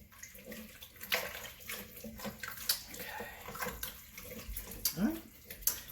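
Zuppa Toscana soup stirred in a pot on the stove, a wet sloshing and scraping of liquid and ingredients that goes on steadily for several seconds, close and moderately loud with small clinks along the way.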